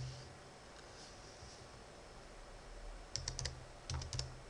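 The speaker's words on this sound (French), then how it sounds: "Ici, je tape le nom d'une image présente sur mon ordinateur." Short bursts of clicky keystrokes on a computer keyboard, typing a filename into a Windows 8.1 search box, arriving in two quick clusters late on over a quiet background hiss.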